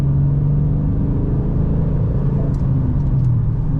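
A 2009 Dodge Challenger R/T V8 engine rumbling loudly from inside the cabin while driving, a deep steady drone with slight rises in pitch as the car accelerates, no talking.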